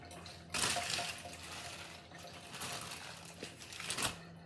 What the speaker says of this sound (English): Okay, I'm going to wash my hands.